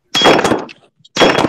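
Two loud, sharp gunshots from a rifle chambered in Winchester 350 Legend, fired at an outdoor shooting range, each a close blast with a brief ringing tail, separated by a short silence.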